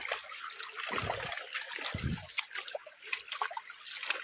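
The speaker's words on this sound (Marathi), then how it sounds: "हा ओढा आहे तर हाच असा जाऊन इथे समोर नदीला मिळतो" A small stream trickles and gurgles steadily nearby on its way to join a river, a close, continuous watery babble with a few louder splashy bursts.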